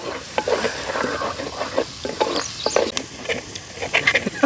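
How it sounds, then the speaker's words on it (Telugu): Finely chopped onions frying in the same oil used for prawns, with a clear sizzle broken by stirring scrapes and clinks of a spoon against the pan, close and steady with no voices. "అదే నూనెలో సన్నగా తరిగిన ఎర్రగడ్డలు వేసుకుందాం. ఎర్రగడ్డల్ని దోరగా వేగించేసుకుందాం."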